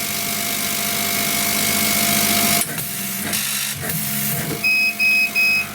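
Stepper motors on a diode laser cutter whir in a steady high-pitched drone at 50 mm per second, with faint tonal whines, then break into short stop-start pulses as the head moves and pauses.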